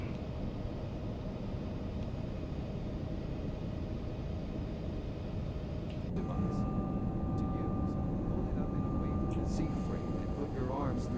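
Number 2 engine starting on an airliner in the X-Plane 12 flight simulator, on a Luxembourg to Brussels flight. A steady, loud broadband roar fills the clip, and partway through a rising tonal whine joins it as the engine spools up.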